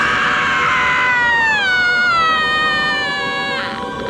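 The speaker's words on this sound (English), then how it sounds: "The patrons finally realize something's wrong when she gives out a banshee scream." A woman lets out a long, piercing banshee scream in a horror film scene, high and sustained, gliding downward in pitch then holding steady, loud and alone before cutting off.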